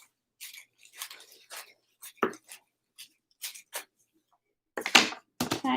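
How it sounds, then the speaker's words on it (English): Scissors cutting through a plastic bag, heard as a series of short crisp snips and rustles with gaps between them, close and clear, one louder crinkly burst near the end. "And you're going to take your scissors and just cut right down the middle."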